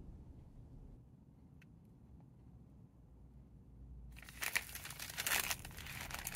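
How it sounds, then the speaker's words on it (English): A crinkly plastic package of organic Ocean's Halo sushi nori is handled partway through, giving a burst of close crackling and crinkling after a quiet, low hum. "Nicely designed package, very crinkly package, would be great for an ASMR video."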